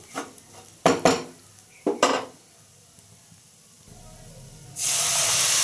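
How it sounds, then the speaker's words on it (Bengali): Gram flour (besan) being fried with salt in a pan: a few sharp metallic clanks of a spatula against the pan, quiet stirring between them, then a loud steady hiss of sizzling near the end. "খুব ভালো করে ভেজে নেব এবার দেখুন কালারটাও কত সুন্দর হয়েছে বেসনগুলো ভাজা হয়ে গেছে"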